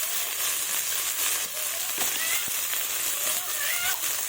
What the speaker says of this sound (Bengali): কেটে রাখা আলু বেগুন নেড়ে চেড়ে লবণ হলুদ দিয়ে দেব